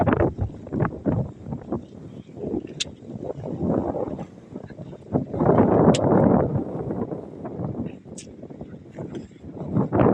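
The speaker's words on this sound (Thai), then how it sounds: "บรรยากาศหนาวลมแห้งขนาด" Strong, cold, dry wind sweeps across an open rice field, buffeting the microphone with a loud, close, continuous low roar that surges in repeated gusts.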